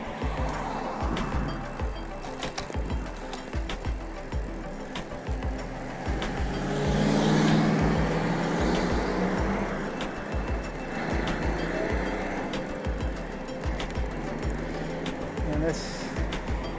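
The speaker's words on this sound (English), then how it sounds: "There's a lot of traffic." Road traffic near Interstate 670 beside a bike trail in Columbus, Ohio: a steady rumble of passing cars and trucks, one louder vehicle swelling by midway, heard alongside rhythmic bike noise while a person talks.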